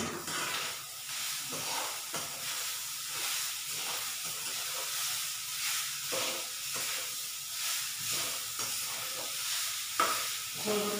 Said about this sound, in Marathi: गूळ परतून घ्यायचं ते.